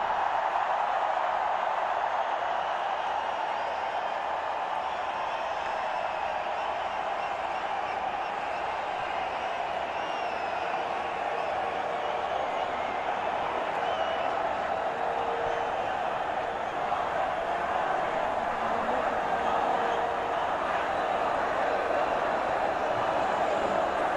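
A large stadium crowd at a cricket match cheers for captain Rohit Sharma, a steady, dense roar of voices and applause that holds unbroken at a distance throughout.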